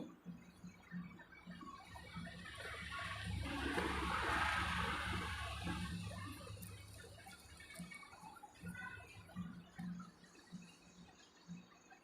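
Eucalyptus oil being poured into a henna paste mix at home, a soft wet gushing pour that swells in the middle and fades, with no talk over it.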